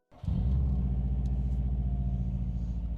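A Subaru WRX engine idles as heard from inside the car: a deep, steady, loud rumble with a slight pulsing throb that starts up abruptly and holds evenly throughout, with no voices.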